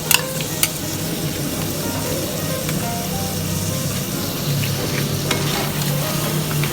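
Onion going into a hot pan for blue swimmer crab stir-fried with curry powder, a steady loud sizzle with stirring scrapes and a couple of sharp clicks near the start, no voices.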